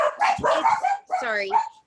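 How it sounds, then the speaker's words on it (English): A pet dog barks and yips in short excited bursts close by, overlapping with a person talking during an online meeting. "my dog's decided to freak out"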